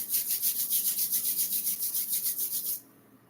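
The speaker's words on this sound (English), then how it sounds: "rub the palms together and cup them gently over our eyes" Palms rubbed briskly together in a steady back-and-forth rhythm, about six strokes per second, a close, dry, hissing swish that continues for nearly three seconds, then stops into near silence.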